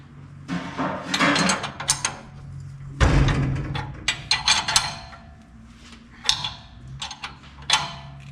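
A ratchet tightens bolts on a Nova's wheelie bar, giving close, loud bursts of rapid clicking in several separate strokes with short pauses between them.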